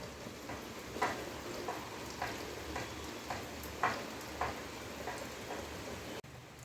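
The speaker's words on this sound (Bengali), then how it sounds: "সত্যিই জোরে বৃষ্টিটা চলে এসেছে" Steady, hissing downpour with a few soft drips and taps standing out, constant and fairly distant.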